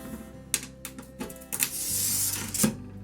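A glass cutter scores across the smooth side of a sheet of stained glass, giving a close, rasping hiss that builds into a steady scratching run, with a few small clicks and taps around it.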